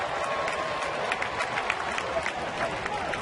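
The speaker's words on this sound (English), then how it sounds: "Somewhat of a sarcastic cheer from the crowd here." A baseball stadium crowd gives a sarcastic cheer during a Braves at Pirates game in Pittsburgh, a broad distant roar with scattered claps under a commentator's voice.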